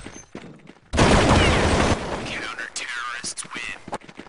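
A loud, rapid burst of gunfire lasting about a second rings out in Counter-Strike on de_train during a competitive match, followed by a commentator talking excitedly over quieter game sounds.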